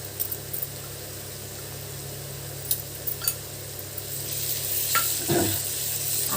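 Ginger paste sizzles in hot oil in a pan for an Andhra-style fenugreek fish curry, a steady soft hiss that swells slightly louder toward the end, with a few faint clinks.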